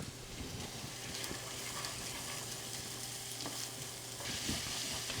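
Onions softening in a pan for Lebanese mujaddara give a steady, close sizzle with faint stirring scrapes throughout and no talking.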